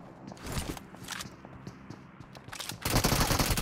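Bursts of gunfire from a PUBG Mobile match: scattered shots and rapid volleys through the first half, then a dense, loud barrage near the end, with footstep-like clicks between.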